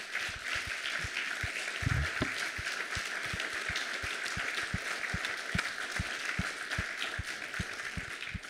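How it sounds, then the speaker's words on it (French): Sustained applause from a conference audience, many hands clapping steadily and densely throughout, with a few louder claps standing out near the start and no talk over it. "je vous demande, comme chaque année, d'applaudir par vos acclamations tous les intervenants qui nous accompagnent"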